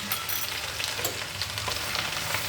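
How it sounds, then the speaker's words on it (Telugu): Ground masala paste fries in oil in a pan for fish pickle, making a loud, dense, continuous sizzle up close with small crackling pops throughout. "ఇప్పుడు నేను ఈ మసాలా వేసి వేయిస్తానండి"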